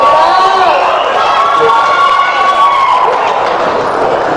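An audience at a university gathering cheering and clapping for a guest from Cameroon, a loud sustained wash of shouts and whoops with raised voices throughout.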